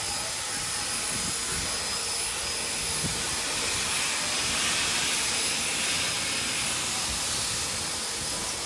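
Inside the cab of Nickel Plate 765, a steam locomotive eases into motion under a steady, loud, broad hiss of steam that holds evenly throughout, with no talking.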